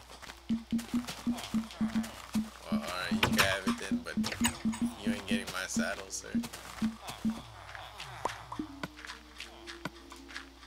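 Rhythmic clip-clop of Minecraft horse hooves trotting at a steady pace, with someone talking over them and a brief whinny near the end.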